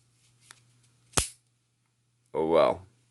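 A Kansept Sprite folding knife blade snapping open with one sharp, loud click, preceded by faint handling ticks; a voice follows shortly after.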